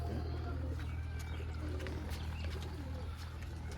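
Soft, rolling coos from loft pigeons, including a silver-zero female, sit under a steady mechanical drone while someone speaks over the birds.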